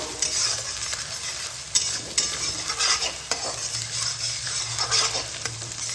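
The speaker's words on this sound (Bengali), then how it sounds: "কুচানো লঙ্কা দিয়ে দিচ্ছি লঙ্কাটা এর মধ্যে হালকা করে ভেজে নেবো" Chopped chillies fry lightly in a pan with a soft, steady sizzle, broken by a few scraping stirs of a utensil against the pan, close and fairly quiet with no voices.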